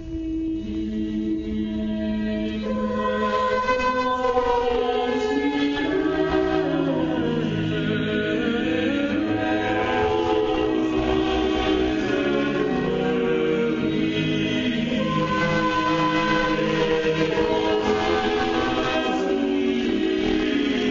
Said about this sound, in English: a kind of penitential motet that sounds like this.